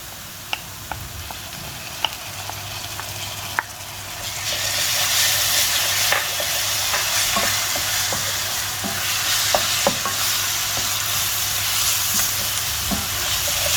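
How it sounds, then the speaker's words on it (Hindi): Ginger garlic paste sizzling loudly as it hits softened onions in a pan over medium heat, with steady frying hiss that swells after a few seconds and repeated scraping clicks of stirring throughout, no voices. "अब मैं इसके अंदर अदरक लहसुन का पेस्ट डाल दूंगी।"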